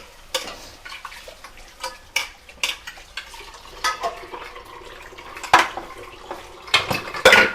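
Fried chicken pieces go into a pan for a homemade chicken curry, with repeated sharp clanks of a metal spoon against the pan and faint sizzling between the knocks.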